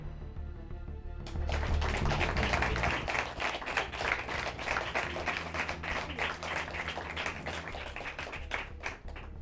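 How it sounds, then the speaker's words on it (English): A student election debate audience breaks into a dense round of applause for the candidates, starting abruptly and continuing steadily and loudly with many hands clapping before slowly thinning. "I would invite the audience members to give a round of applause to the candidates"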